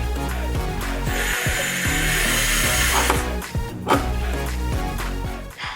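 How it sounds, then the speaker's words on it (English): Power drill boring through the metal door of a refrigerator to mount new handles, a continuous loud grinding whine with uneven bites and brief dips near the end, no talking. "Metal is definitely harder to drill through than wood."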